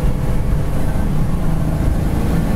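A 1971 Ford Mustang Mach 1 with a 351 four-barrel V8 accelerating on the road, a loud continuous low engine rumble heard from inside the car.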